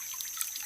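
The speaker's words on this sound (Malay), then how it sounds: "ini air semula jadi dari gunung." Natural mountain spring water trickles in a garden during the dry season, a soft, steady burble and dribble, faint and close, heard alone.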